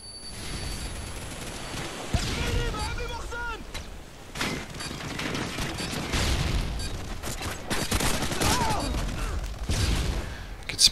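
Bursts of automatic gunfire and explosions from Call of Duty: Modern Warfare 2 multiplayer on the Scrapyard map, rapid irregular volleys and booms, with a player talking over the action.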